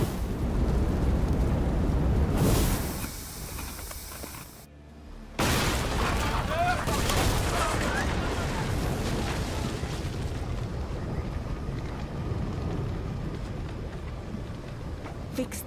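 Ship cannons fire in a naval battle in Assassin's Creed Odyssey, a heavy booming blast that rolls into rumbling, followed by a sudden cut and then long crackling, churning debris and water noise, with a voice barking orders.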